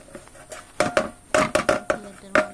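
Nuts from a homemade nut recipe tumble onto a plate in a handful of close, irregular rattling clatters, each burst short and sharp with brief pauses between.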